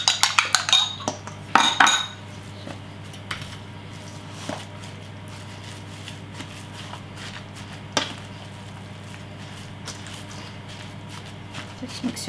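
Meatball mixture with onion, garlic and beaten eggs being stirred in a bowl: clinks and taps of a utensil against the dish, clustered at first then sparse soft knocks over a steady low hum.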